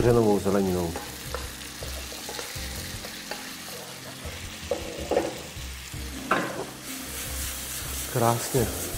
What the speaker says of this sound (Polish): Dodamy teraz odcedzoną ciecierzycę z warzywami